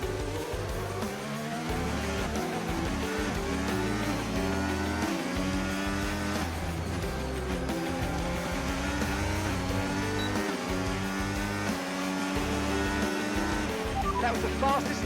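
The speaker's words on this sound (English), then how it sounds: "Now still on the same lap as us overtaking Norris, there was Russell just like Norris on the long straight" Formula 1 cars in the F1 25 racing game roar continuously as they overtake along a long straight, with dense layered engine whine and shifting pitch sweeps holding loud throughout, over a steady game music bed.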